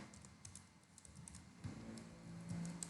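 Someone types on a computer keyboard while writing CSS code. Quiet, scattered key clicks come in short bursts, faint and close.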